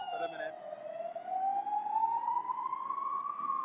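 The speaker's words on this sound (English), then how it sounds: "Noisy siren." A siren wails steadily on a downtown Madrid street for several seconds, its pitch sliding slowly upward, moderately loud with some background noise beneath it.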